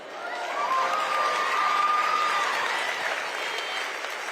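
Audience at a student summit in Tampa breaks into loud, sustained applause with some cheering, swelling quickly and then slowly tapering off.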